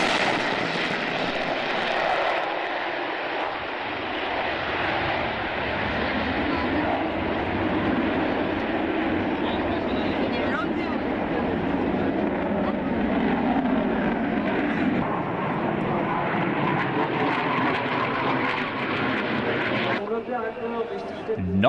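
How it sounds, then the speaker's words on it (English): A German Tornado jet roars steadily overhead at an airshow, a loud, sustained engine rumble that fills the whole stretch while someone talks over it. "while we look at the German Tornado"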